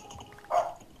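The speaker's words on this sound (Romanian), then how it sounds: "Câinele meu latră." A pet dog gives a single short, muffled bark from another room, faint and distant behind a quiet background.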